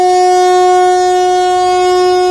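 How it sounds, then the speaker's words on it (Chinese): Train horn at Qidu railway station in Keelung, Taiwan, blown as a mourning tribute: one loud, sustained tonal blast held steadily for the whole stretch, close and piercing, with no talking. "列车缓缓驶进七堵火车站，鸣笛声大作，长达5秒钟"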